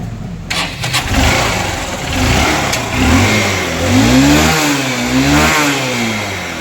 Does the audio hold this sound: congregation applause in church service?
no